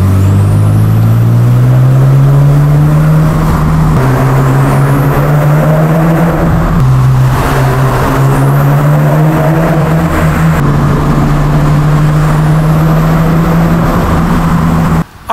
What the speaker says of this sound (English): Anytime you're on a throttle, you hear the whistle and the whine and the spooling up of the turbos